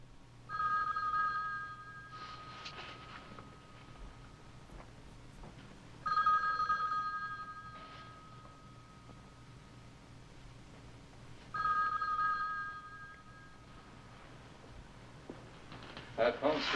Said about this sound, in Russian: А телефон все еще звенит.